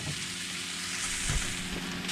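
Mushrooms and onions, seasoned with kosher salt, sauté in a pan with a steady, close, hissing sizzle and a brief stir partway through.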